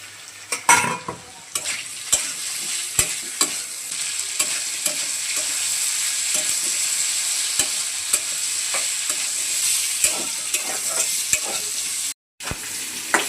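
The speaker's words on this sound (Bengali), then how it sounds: "সবজিগুলো ভাজা হয়ে গেছে, এখন নামিয়ে নিচ্ছি।" Vegetables fry in hot oil in a pan with a constant close sizzle, broken by repeated sharp clicks and scrapes of a utensil stirring against the pan.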